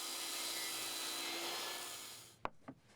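A saw rips a PVC deck trim board to width along its length, giving a steady loud broadband cutting noise for most of the moment, then stopping with a couple of sharp knocks as the offcut falls free.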